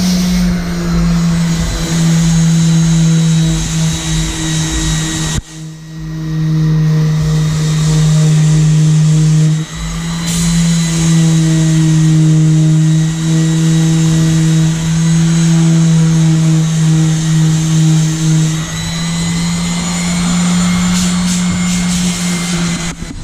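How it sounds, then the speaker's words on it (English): A boat hull being sanded, a loud continuous mechanical drone with a steady hum that breaks off briefly twice and then resumes, close by and without talk. "This is the sandpaper that Dad's using."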